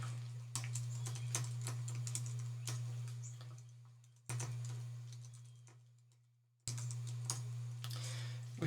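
Commands typed on a computer keyboard during a Linux kernel exercise on a cyber range: steady rapid key clicks in bursts with two short pauses, over a constant low electrical hum.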